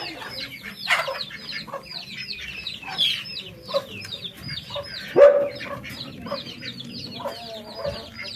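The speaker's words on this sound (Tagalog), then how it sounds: "nauna ko ng pinakain tong isang inahin na may apat na sisiw" A hen clucks now and then while four chicks peep rapidly in high, repeated chirps, close by.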